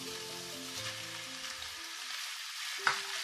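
Potato and onion fry in a pan with a steady close sizzle and crackle, plus a brief clink of a stirring utensil near the end, with no talking.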